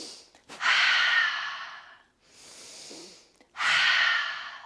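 Forceful 'ha' breaths during a morning yoga session, each a loud, rushing exhale through the mouth. Three strong breaths come in a steady rhythm, close and alone, with a softer breath between the bursts.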